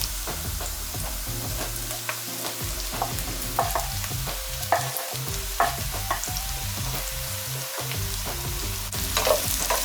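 Onions and mushrooms frying in a pan, a close, steady sizzle broken by scraping stir strokes and small pops.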